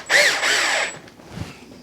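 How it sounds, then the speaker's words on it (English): A power drill pre-drilling a screw hole while installing a workshop door whines at high speed for about a second, then winds down, followed by a faint clunk. "That's why I pre-drill it, so when I put the screw in,"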